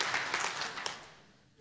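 Stand-up comedy audience applauding, a short stretch of dense clapping that fades out quickly, no talk.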